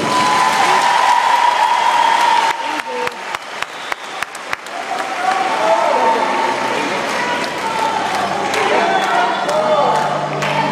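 A large audience at a concert in Weilheim an der Teck, Germany, claps loudly and steadily throughout, with dense applause and scattered cheers filling the space.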